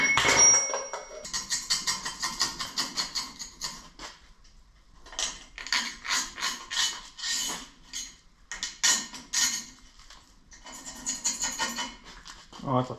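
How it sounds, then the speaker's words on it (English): Metal pick scraping rust out of the clip holes on a driveshaft of a 1983 GMC K2500 pickup: repeated short, harsh metallic scratching bursts in quick irregular runs, close and fairly loud. "I'm gonna try to take a pick and clean those out a little bit"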